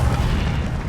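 Incendio fire spell cast in the Hogwarts Legacy video game: a single short, loud, boomy burst with a heavy low rumble, heard alone.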